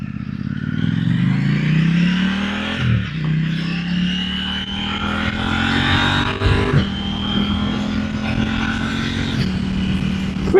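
KTM motorcycle on a test ride in track mode with a quick shifter, engine revving loudly and climbing in pitch, dropping abruptly at each fast upshift before pulling hard again, close and continuous.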